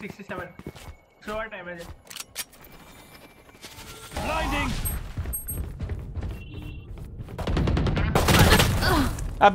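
Odin machine gun fire in Valorant, heard as sustained bursts of rapid automatic shots that grow louder and denser toward the end, mixed with other game effects, while someone talks over the action.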